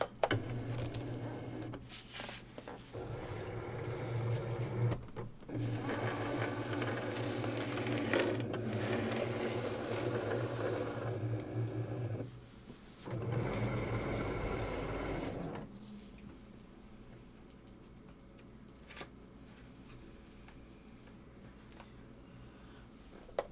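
A Cricut cutting machine motor whirs as it pulls in a card mat, a steady mechanical hum and rattle with a few clicks lasting several seconds, then a short second burst before quieting to faint background, no voices.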